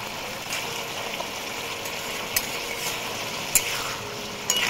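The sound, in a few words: stirring cauliflower stalk stir-fry with mustard in pan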